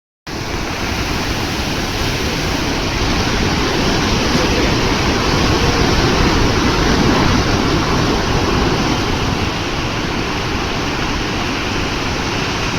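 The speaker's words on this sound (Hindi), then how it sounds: "कितना तेज पानी गिर रहा है।" Loud, steady roar of a fast-flowing waterfall, water crashing continuously with no pauses and no voices, broadband rushing that fills the whole stretch evenly.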